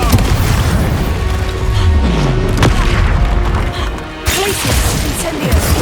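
Explosion spell blasts in Hogwarts Legacy, cast during a raid on an Ashwinder camp: a loud, dense run of booming bursts and deep rumble that fills the clip, with a brief lull near the end before the blasts resume.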